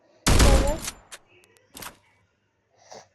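In the Free Fire video game, a loud close burst of gunfire comes first, then a few sharper single shots and clicks, with a faint trailing sound near the end.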